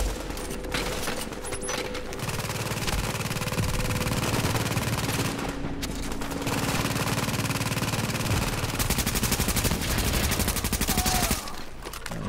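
Continuous shotgun and rapid gunfire from a Tom Clancy's The Division firefight against Rikers, loud and dense throughout with overlapping blasts and no talking.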